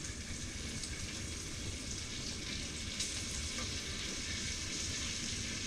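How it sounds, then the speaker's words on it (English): Bacon frying in a pan while making pasta carbonara: a continuous, fairly soft hiss and crackle of sizzling fat, steady with no pauses and no voices. "Then we're going to add all the bacon to it"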